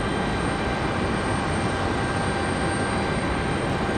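A Delta Connection CRJ 900LR regional jet arriving from JFK gives off a steady broadband roar at moderate distance, holding constant for the whole stretch with no voices.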